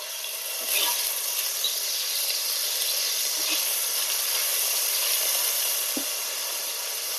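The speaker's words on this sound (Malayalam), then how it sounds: "ഇഞ്ചി വെളുത്തുള്ളി പേസ്റ്റ് ആഡ് ചെയ്ത് കൊടുക്കാം" Ginger garlic paste sizzling in hot oil in a pan for a spicy chicken masala pasta, a steady bright hiss running throughout with a few faint clicks.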